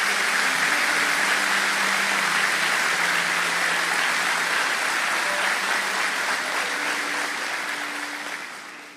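A church congregation applauds steadily, a dense even wash of clapping hands sustained throughout and tapering slightly at the end.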